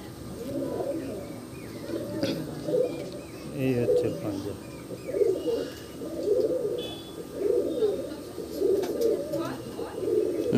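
Pigeons coo in a repeated, rhythmic series of low throaty calls close by, with someone talking over and between them.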